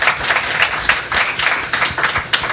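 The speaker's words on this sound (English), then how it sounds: "So let's have a nice round of applause for Jen." A small audience claps in short, uneven bursts of applause, close and moderately loud.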